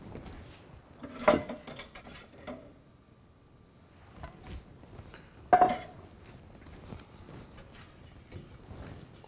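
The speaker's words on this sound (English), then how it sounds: "Quick whisk." A whisk taps and clinks against a pot of potato leek soup, scattered light metallic strikes with two sharper clanks, close and fairly quiet, no talk.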